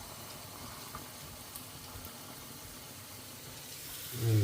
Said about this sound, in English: Just adding a little bit of water into my potatoes.